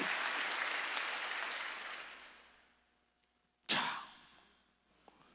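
A church congregation at a Korean Wednesday service claps, a soft wash of applause fading out over three seconds, followed by a sharp thump and a breath close to the microphone.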